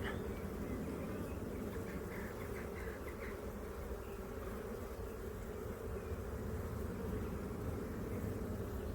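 Honeybees swarm busily around a hive in an apiary. The dense, steady buzz holds close and constant throughout, with no voices.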